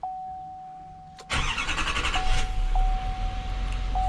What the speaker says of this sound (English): so let me start up the truck